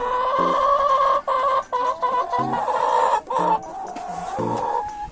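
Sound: chicken clucking

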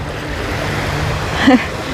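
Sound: waves on Lake Michigan shore

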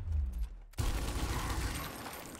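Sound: gunshot fired in the video game Gears Tactics

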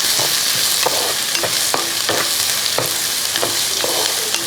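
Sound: chopped onion frying and being stirred in a pan

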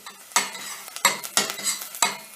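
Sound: red pepper paste being fried and stirred in a pan

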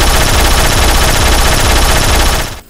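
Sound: car-mounted gun firing in Roblox Jailbreak video game

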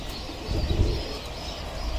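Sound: pigeons cooing as they return

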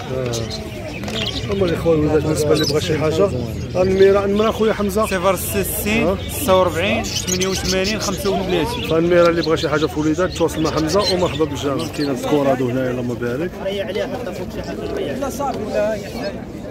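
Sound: pigeons cooing at a bird market

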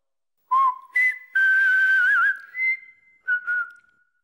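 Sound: cartoon whistling bird whistling

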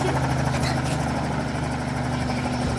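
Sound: helicopter in a video game

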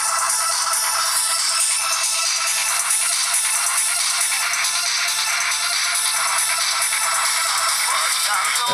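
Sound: song played on Fly IQ441 phone speaker

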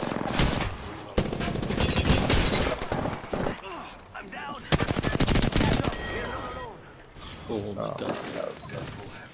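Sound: gunfire in the video game Apex Legends

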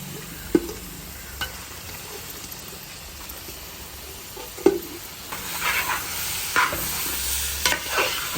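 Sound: stirring chicken with fried onions in a pan

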